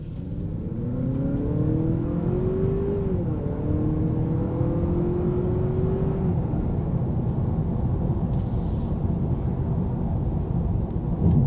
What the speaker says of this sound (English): It's a quiet drive compared to the Camry. You still will hear road noise.